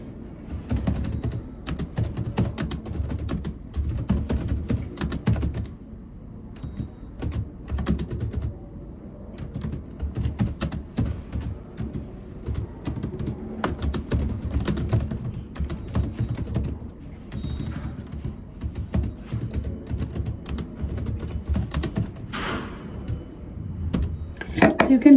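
A computer keyboard clatters with fairly continuous, uneven keystrokes over about twenty-five seconds as a WhatsApp Business message is typed, with brief pauses and no speech.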